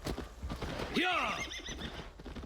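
A horse whinnies once in the video game Assassin's Creed Valhalla, loud and close, a rising then falling squeal over a busy background of clatter and ambient noise.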